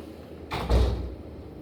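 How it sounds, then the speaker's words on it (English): A door pulled shut in a lecture room, a brief rush of movement ending in a dull low thud nearby, then quiet, with no one speaking. "Normally don't close the door"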